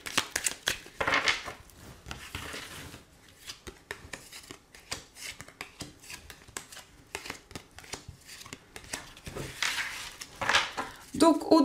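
Tarot cards are shuffled and drawn for a reading. Rapid papery riffles and flicks come in bursts near the start and end, with softer handling and a voice talking in between.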